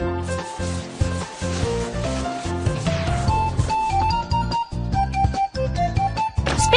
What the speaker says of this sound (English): Brush with a coat of latex.